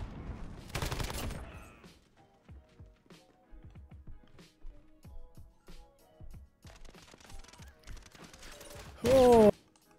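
A PKM heavy machine gun fires in the video game Modern Warfare, with loud bursts at the start and end and scattered distant gunfire between, mixed with clicks, handling noises and speech.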